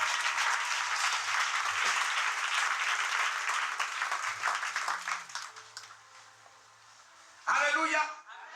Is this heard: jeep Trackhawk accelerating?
no